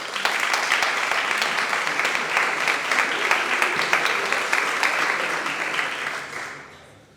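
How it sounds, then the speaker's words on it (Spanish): Audience applauding at a literary contest event in Villa de La Orotava, steady dense clapping from a crowd for about six seconds before tapering off. "Un aplauso."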